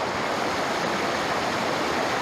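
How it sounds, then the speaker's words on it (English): Water pours steadily over a rock overhang at a Japanese waterfall, a dense, even rushing roar that stays constant and close with no voices. "like this little overhang rock here with the water coming over it"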